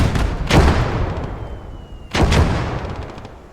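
Mortar artillery fire in the World War II game Blood Red Snow, two heavy booming blasts a little over a second and a half apart, each rolling off into a long decaying rumble, loud and close.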